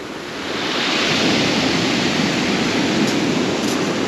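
Black Sea surf at Lazarevskoye, Sochi, churns in a continuous, dense roar with wind noise, loud and unbroken throughout.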